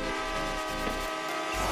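Steady horn of a train in the Spider Horror Multiplayer video game, a sustained tonal blast sounding loud and continuous throughout, with no talk over it.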